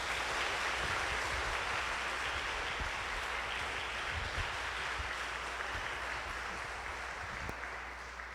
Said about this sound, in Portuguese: Quando a gente está aplaudindo, não é pela pessoa, mas por aquilo que ela passa para nós.